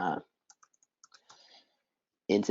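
A few sparse, light clicks from someone typing a search term on a computer keyboard, close by, set between brief bits of talking at the start and end.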